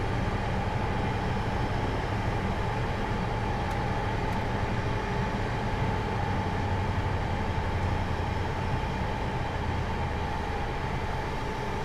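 Simulated HST diesel train in Train Simulator 2017 running between Swansea and Bristol Parkway, a steady loud engine drone with a constant whine and rumbling track noise, continuous and unbroken with no talk.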